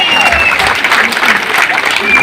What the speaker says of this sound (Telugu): ఒక్కసారిగా అందరూ చేతులు పైకెత్తి చప్పట్ల ద్వారా జగన్మోహన్ రెడ్డి గారికి